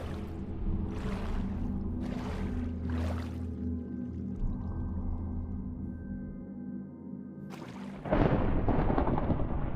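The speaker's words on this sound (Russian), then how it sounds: "Меня напугала очень сильно эта гроза." A thunderstorm rumbles through a video game scene, low rolling thunder sustained for several seconds with a louder crack and rush of rain near the end, no talking over it.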